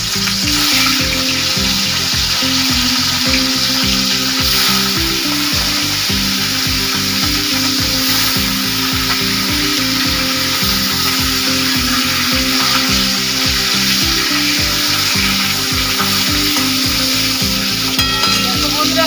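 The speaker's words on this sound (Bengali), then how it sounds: "শঙ্কর মাছ ভাজা হয়ে গেছে আমি এখন নামিয়ে" Stingray fish frying in hot oil gives a loud, continuous sizzle with a regular pulsing undertone throughout, and no voices.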